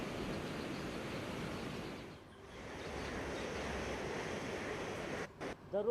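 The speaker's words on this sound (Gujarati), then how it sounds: "અમદાવાદનો વાસણા બેરેજના તમામ દરવાજાઓ અત્યારે હાલ ખોલી દેવામાં આવ્યા છે" Water rushing through the opened gates of Ahmedabad's Vasna Barrage, all gates open after a heavy release upstream: a steady, loud broadband roar with a brief dip midway and a few wind bumps near the end.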